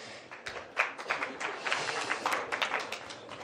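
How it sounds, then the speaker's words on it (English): Scattered, fairly quiet clapping from a small audience at a conference pub event, individual claps audible as uneven sharp taps for a few seconds. "Applause for you."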